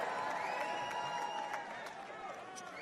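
A large crowd at the Republican National Convention applauds and cheers in a sustained wash of clapping and whoops, heard at a distance and fading slightly toward the end.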